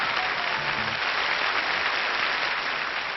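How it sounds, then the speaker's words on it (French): Audience applause on a 1998 French television show, a thick continuous roar of many hands clapping, even and sustained, heard alone with muffled, band-limited quality. "on l'applaudit très fort"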